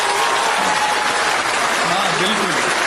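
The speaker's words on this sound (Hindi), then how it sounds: "जोरदार तालियां" Loud, sustained applause from an audience at a Hindi-Urdu poetry recital, a dense wash of clapping filling the whole stretch without pause.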